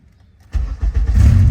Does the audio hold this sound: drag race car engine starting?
yes